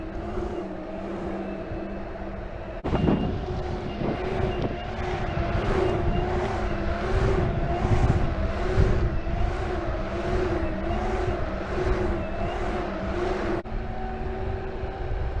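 Onsra electric skateboard rolling on brand-new 105mm Cloudwheels with 40-tooth pulleys, a steady close rumble and motor whine running throughout with a brief louder bump near the start.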